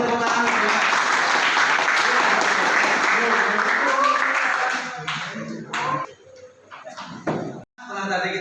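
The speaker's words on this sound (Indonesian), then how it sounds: "Oke, kasih tepuk tangan untuk Dimas." Students in a classroom clap for a classmate, a dense burst of applause lasting several seconds before breaking off into scattered bumps and door-like knocks, with voices talking around it.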